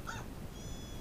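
A cartoonish cat meow from the Nintendogs + Cats handheld game, one short high mewing call near the start over a constant low hiss, followed by a thin sustained electronic tone.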